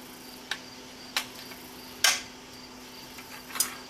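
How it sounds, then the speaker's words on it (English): Plastic part cracking as it is threaded in, a few sharp, distinct cracks and clicks spaced about a second apart over a steady low hum. "you hear the sound of the cracking, so it's giving me a little trouble. It's plastic."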